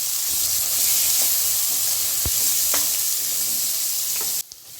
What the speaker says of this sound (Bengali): এবার আমি আমার কেটে রাখা আলুগুলো দিয়ে দিলাম। আলুটা একটু ভাজা ভাজা করতে হবে।